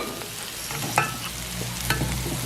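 Pieces of blue crab sizzle steadily in a pan for a Jaffna-style crab curry while being stirred, with occasional scraping clicks over the constant frying hiss, close up and without voices.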